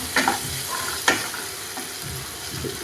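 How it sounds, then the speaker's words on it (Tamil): Tomatoes sautéing in a pan for a mutton stew, with soft stirring and scraping strokes over a faint, steady sizzle, close and fairly quiet. "தக்காளியும் போட்டு நல்லா வதங்கணும்"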